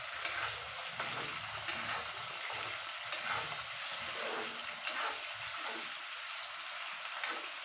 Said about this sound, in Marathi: ह्याला 2 मिनटं आपण फ्राय करूया फक्त।